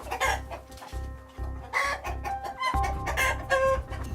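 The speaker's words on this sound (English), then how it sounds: "We have chicken, local ones." Local chickens, broilers and layers on an East African farm shamba, clucking and crowing in a busy, close chorus of repeated calls that runs right through, with no talk.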